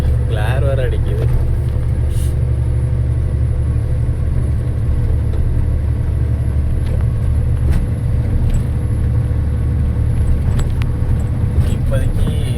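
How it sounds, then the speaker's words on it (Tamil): A BharatBenz truck engine pulling uphill in fifth gear, a loud, steady low rumble and drone that continues throughout the cab while a person talks. "ஆனால் 5th கியரில் ஏறிக்கிட்டு இருக்கிறான்"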